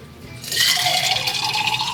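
Rum pours into a ceramic tiki mug, a steady close splash and gurgle that starts abruptly and continues without a break.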